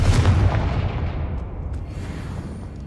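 A Confringo spell exploding in Hogwarts Legacy: one heavy, booming blast that hits at once and then fades into a long rumbling decay.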